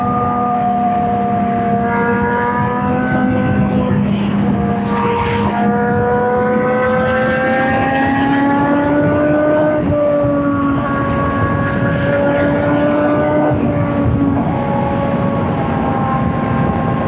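A Honda CBR1000RR-R Fireblade SP sportbike on a test ride, its engine holding a loud, steady high-pitched drone that climbs gradually through the gears, with constant wind rush over it and no talk.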